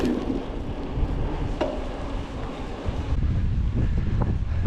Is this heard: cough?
no